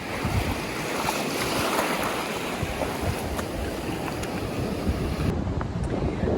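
Ocean waves rolling onto Marcoola Beach, Australia, on a morning walk, a steady close wash of surf with wind rumbling across the microphone throughout, with no voices.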